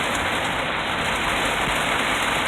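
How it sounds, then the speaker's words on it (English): Heavy, constant rain pours down during an extreme flood in Port Neches, Texas, a dense, steady hiss and patter that stays loud and unbroken with no talking. "This constant rain up there."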